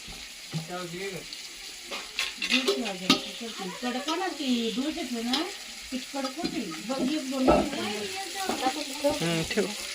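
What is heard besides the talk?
bangda fish frying in rice flour coating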